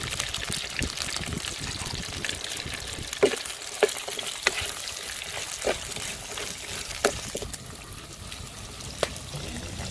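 Chopped big onions fry for a mutton curry, a steady sizzle with scattered stirring clicks and scrapes of the spoon against the pan, close and continuous with no talking.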